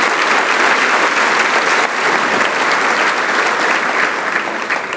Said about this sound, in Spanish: Le das un aplauso a Dios con todo tu corazón